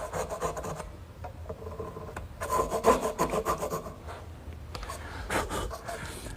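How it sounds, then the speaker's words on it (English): A small hand dovetail saw cuts tenon shoulders in wood with close, rasping back-and-forth strokes that come in two clear bursts, and handling noises fill the gap between them. "I think this little dovetailing saw is more accurate."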